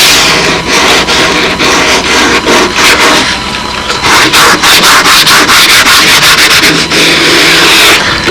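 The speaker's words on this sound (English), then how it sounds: "that's ready for the sanding block" Steady back-and-forth rubbing of a sanding block and sandpaper over wood and tape on a model aircraft build, loud and close, with a rapid rhythmic scratching that continues without pause.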